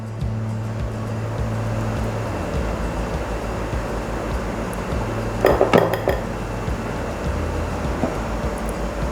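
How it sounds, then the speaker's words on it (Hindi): Egg white batter, beaten and folded together with dry ingredients and egg yolk for vanilla custard cupcakes, is mixed in a bowl: steady scraping and light utensil clinks, with a brief louder clattering burst partway through. "और अब मैं इसको मिक्स कर लूँगी।"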